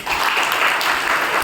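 At a Brahma Kumaris spiritual talk in Shahabad Markanda, an audience gives a brief, loud burst of steady clapping with no voices over it.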